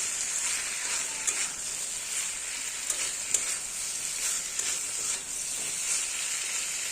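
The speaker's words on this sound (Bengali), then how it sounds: "মিশিয়ে দিচ্ছি ভালো করে।" Vegetable curry with homemade garam masala sizzles steadily in a pan while it is stirred, a continuous close frying hiss broken by small scraping ticks.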